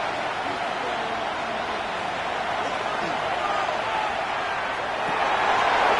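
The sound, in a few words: stadium crowd noise in EA Sports football video game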